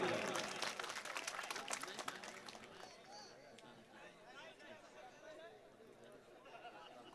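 Loud burst of audience applause at a shayari poetry recital, dense clapping for the first two seconds that quickly thins out into scattered claps and crowd chatter as it fades.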